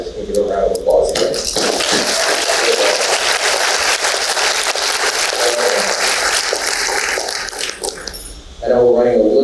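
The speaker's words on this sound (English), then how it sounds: "Can we give a round of applause again?" Meeting audience giving a loud, steady round of applause for regional presidents at an annual member meeting, lasting about seven seconds between bursts of a speaker's voice.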